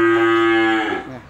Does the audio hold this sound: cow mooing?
yes